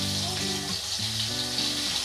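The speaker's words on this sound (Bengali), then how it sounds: "এবার আমি তেলের মধ্যে দিয়ে নেব 2 চামচ পেঁয়াজ বাটা" Onion paste dropped into hot oil for a fish dopiaza hisses in a dense, continuous sizzle, with a low tonal hum running underneath and no talking.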